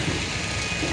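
Steady rain pouring outdoors along a roadside, a dense continuous hiss and patter with a low rumbling undertone, close and unbroken throughout the brief stretch.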